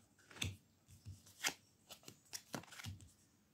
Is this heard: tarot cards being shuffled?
yes